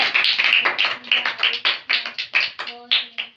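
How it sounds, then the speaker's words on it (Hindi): Children in a Bible class clapping loudly for a girl who recited a verse, a run of sharp, close, fairly even claps in a quick rhythm, with a brief voice cutting in near the end. "जोरदार तालियां मलाइका के लिए"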